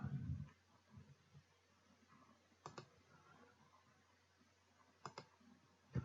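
Sparse computer mouse clicks while working in CAD software, each a sharp double tick, close and fairly quiet, spaced a couple of seconds apart over faint background hum, with a soft thump at the start.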